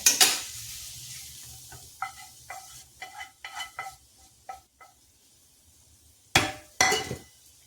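Fried chicken being stirred in a pan, with a series of distinct scraping and clattering strokes of the spoon against the metal, loud and close with short pauses between them.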